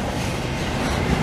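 CN and CP intermodal freight train passing Dorval station in Montreal, a loud close rumble of engine and wagons rolling by steadily with no talk.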